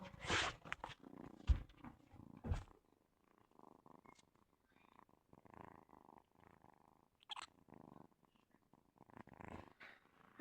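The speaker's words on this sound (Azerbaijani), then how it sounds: "bunlar pişik səsidir" A cat purrs close by in soft rhythmic rumbling pulses, with a few louder bursts near the start and faint scattered sounds between them.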